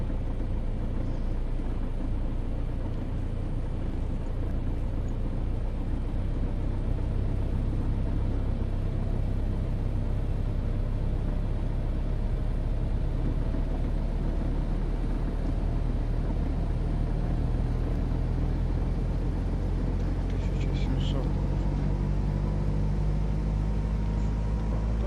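A light aircraft engine held around 1700 RPM in the FlightGear flight simulator drones steadily and loudly throughout, with a low constant rumble and a faint tone that drifts slightly upward.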